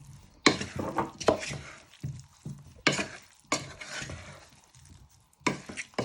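Cherry tomatoes with stalks removed are stirred and tossed in a frying pan, wooden utensil scraping in bursts over a steady sizzle, with pauses between strokes; no one speaks.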